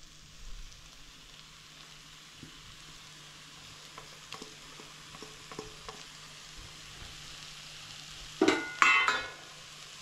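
Carrot halwa with cardamom is stirred in a pan on the stove, making soft, quiet scraping and faint sizzling. Near the end, a louder burst of stirring scrapes briefly.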